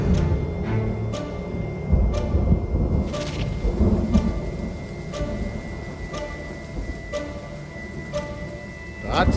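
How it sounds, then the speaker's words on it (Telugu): Heavy rain pours down steadily in a dense, close roar, with deep thunder rumbling beneath and occasional sharp cracks. "వర్షం తగ్గేలో లేదే"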